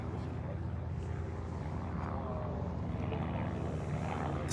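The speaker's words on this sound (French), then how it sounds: "C'est l'avion du baron rouge Manfred von Richthofen." The Red Baron Manfred von Richthofen's World War I propeller airplane flying at the La Ferté-Alais airshow, a steady loud engine drone and propeller rumble that persists throughout, with crowd noise underneath.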